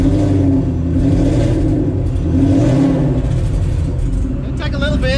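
An 800-horsepower Fox Body engine fires for its first start and revs, a loud close mid-pitched roar that rises and falls with throttle blips, with people talking over it.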